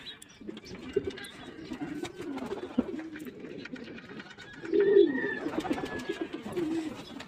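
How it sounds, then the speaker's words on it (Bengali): Racing pigeons coo in rows of pigeon lofts: repeated soft, throaty cooing from several birds that overlaps and swells toward the end, with a faint background murmur. "প্রত্যেক খোপে খোপে কবুতর।"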